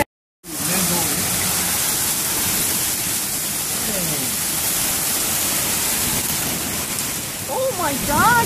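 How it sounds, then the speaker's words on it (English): Hail pelts down in strong winds, a dense, loud, continuous roar of hitting ice and gusts that starts abruptly after a moment of silence, with voices faintly heard toward the end. "Hail. Is that hail?"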